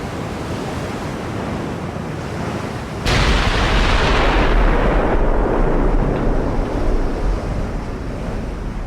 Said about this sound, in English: Battleships are opening up